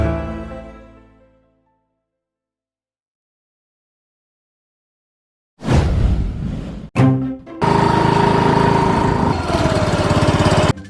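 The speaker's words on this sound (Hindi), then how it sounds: "ये स्कूटर क्यों चला रहा है?" A scooter engine starts up after a tonal musical note fades into silence, then runs loud and steady with a brief break before settling into a continuous buzzing drone close by.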